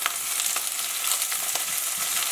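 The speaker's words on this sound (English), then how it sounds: "we're going to sweep in some of the onions. We're not looking to caramelize them, just kind of get a little bit of a char and a cook on them" Onions sizzling and charring in a hot pan for surf and turf ramen, a close, dense frying hiss with light crackles and stirring taps throughout.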